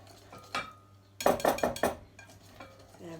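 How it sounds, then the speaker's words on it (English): Apple and cider cake batter stirred in a bowl: a cluster of spoon clinks and scrapes near the middle, with softer stirring before and after, fairly quiet and close. "Stir everything in there."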